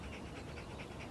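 A dog pants rapidly and steadily at close range during a training session, with about five quick breathy huffs in a second over a constant low background rumble and no talking.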